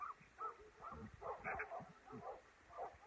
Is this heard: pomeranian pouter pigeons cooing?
no